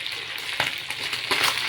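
Chicken sizzles in oil on a grill pan, a close, continuous crackling fry with a couple of sharper pops and stirring scrapes, with no talking.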